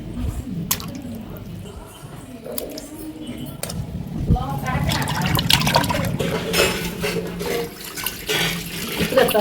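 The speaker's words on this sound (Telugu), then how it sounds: "గల్లు ఉప్పేసి శుభ్రంగా కడుక్కోవాలన్నమాట." Fish being washed in water with coarse salt, with close, continuous sloshing, splashing and dripping that grows busier toward the end.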